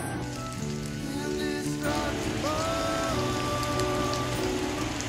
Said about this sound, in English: And it was literally raining and everything.